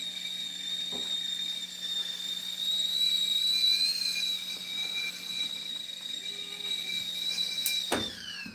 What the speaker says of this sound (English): the whistle gets louder the hotter it gets